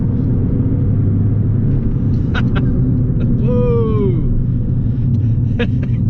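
An Abarth 595 engine accelerates hard in third gear, a steady loud rumble climbing in pitch, with a brief voice over it.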